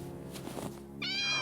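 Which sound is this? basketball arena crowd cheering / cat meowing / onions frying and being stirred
cat meowing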